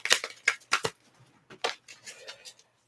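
Tarot cards are shuffled in several short, crisp riffling bursts close by, with brief pauses in between.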